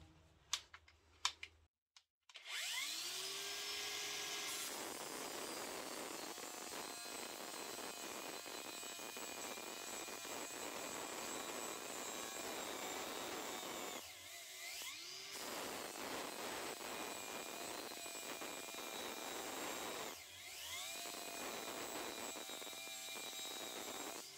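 Parkside Performance PWSAP 20 Li-C3 cordless angle grinder grinding under gentle pressure, a loud steady high whine with brief dips as the motor slows, stopping twice and spinning back up, after a few clicks at the start.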